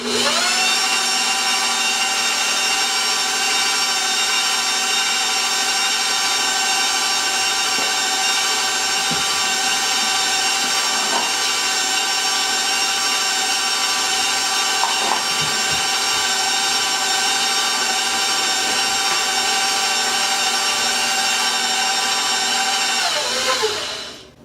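An electric mixer beats cookie dough with eggs for apple caramel Milky Way cookies, its motor a steady, loud, high whine that runs unbroken for about 24 seconds and then stops abruptly.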